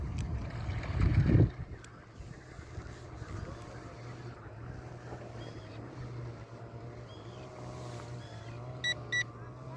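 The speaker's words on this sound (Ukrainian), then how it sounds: "Кораблик робить декілька кіл." A small remote-controlled fishing bait boat circles on the water during calibration, its faint electric motor humming steadily at a distance, with a brief louder burst at the start and soft beeps near the end.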